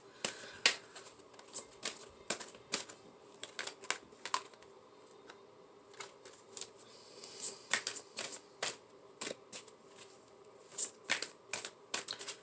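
Fairy tarot deck being shuffled by hand, a close series of crisp card riffles and snaps in irregular bursts, repeated many times with brief quiet gaps between.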